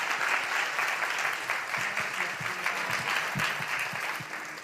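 An audience at a copyright forum applauds a lawyer after a presentation, with steady clapping from many hands that tapers slightly toward the end, alongside faint low murmurs.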